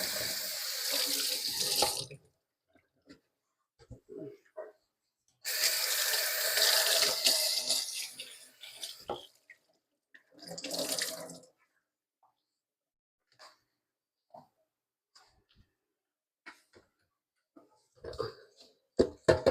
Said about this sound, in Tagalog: Dapat talaga nilinis pati lababo.